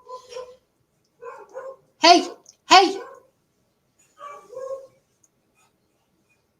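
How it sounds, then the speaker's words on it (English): A dog gives a few short barks and whimpering yelps close to the microphone, with a person's brief calls in between. "Just the dog, I'm always nervous what she's doing because she can escape from anywhere"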